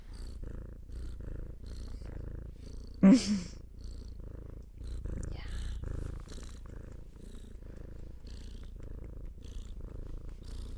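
Cat purring close up, a steady rhythmic rumbling purr with regular breathing pulses, interrupted once by a brief sharp thump and a short higher sound.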